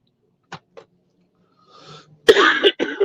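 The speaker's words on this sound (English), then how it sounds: "I still got this nasty cough" A man with a lingering nasty cough gives two short, faint coughs, then after a pause a louder, rougher fit of harsh, raspy coughing, close and alone.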